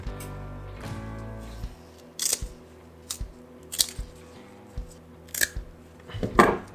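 Scissors snipping through a nylon strap, a series of separate crisp crunchy cuts spaced about a second apart, close and fairly quiet, with a low hum and some handling noise at the start.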